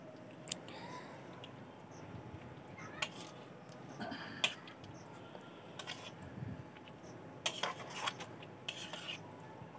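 Spice powder is mixed into a bowl of homemade mango pickle, giving quiet scraping and sporadic metallic clinks of a spoon against the bowl. The sounds are faint and irregular over a soft room background.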